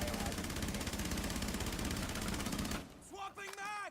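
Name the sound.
gunfire from a weapon in the video game Rainbow Six Siege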